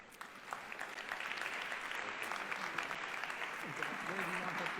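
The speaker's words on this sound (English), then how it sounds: "So a big round of applause to them." An audience at a startup competition regional final gives a round of applause for the judges, a steady, moderately distant clatter of clapping that continues throughout.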